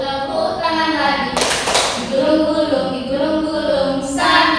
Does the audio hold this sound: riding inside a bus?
no